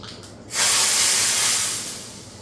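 Tempering for rasam hits hot oil with a sudden loud sizzle after a brief quiet moment. The steady, hissing fry holds close and strong, then slowly eases off, with no talking.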